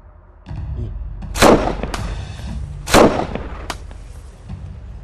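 A Type 88 sniper rifle fires two loud, close shots about one and a half seconds apart, each with a sharp crack and a rumbling tail, over a low steady background.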